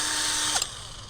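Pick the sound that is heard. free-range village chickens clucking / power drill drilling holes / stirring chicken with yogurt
power drill drilling holes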